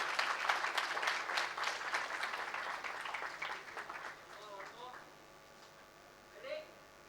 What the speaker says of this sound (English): Huge round of applause for them,